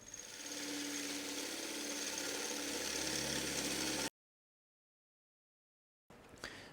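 A power drill bores through the metal tank shelf of a BMW R9T motorcycle, a steady, loud whirring grind lasting about four seconds, then cutting to silence before a brief burst of tool noise.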